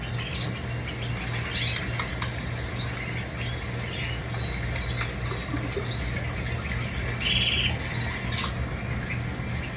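Caged canaries chirp in short, bright, scattered calls over a steady low hum, with no voices.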